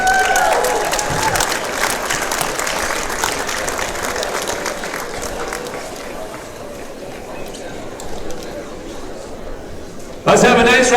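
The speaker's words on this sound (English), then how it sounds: "Let's have a nice round of applause for our W.B. Hawkins nominees." A crowd at a girls' basketball game applauds nominees in sustained, dense clapping that fades slightly over time, with a voice on the public address breaking in at the end.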